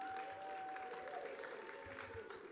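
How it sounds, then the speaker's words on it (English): Faint applause from the crowd at a boxing bout, a soft scattered clapping spread through the hall, heard at a distance alongside a sustained tone and low murmuring. "A round of applause to our judges and our referee."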